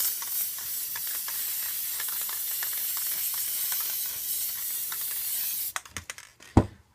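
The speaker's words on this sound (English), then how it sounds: "And all you do is spray, let it dry, and then come back to it. So I'm just going to spray it." Clear sealer sprayed from an aerosol can, a continuous close hiss lasting several seconds, then breaking into a few short clicks and knocks as the spraying stops.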